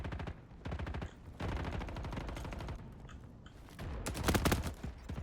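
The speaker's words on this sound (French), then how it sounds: "J'ai senti des tirs là." Rapid bursts of automatic gunfire crackle through a Roblox war-zone shooter, near and loud, with repeated volleys swelling into a denser, heavier barrage near the end.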